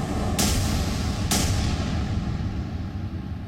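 Two sharp distant booms of Indian Army artillery fire at a bunker across the Line of Control, a second apart, over a steady rumbling background.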